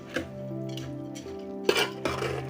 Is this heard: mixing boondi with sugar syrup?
yes